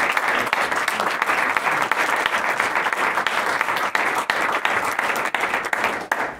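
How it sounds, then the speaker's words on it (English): Crowd applause for event volunteers at a wrap-up gathering; a full room claps steadily and evenly throughout, loud and close, with no talking over it. "Let's give them a round of applause"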